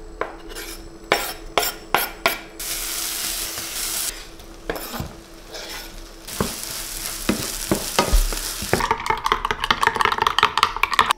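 Food fries in a lightly oiled pan with bursts of sizzling, while a utensil repeatedly clinks and scrapes against the pan; the sizzle swells and fades between the sharp metallic taps.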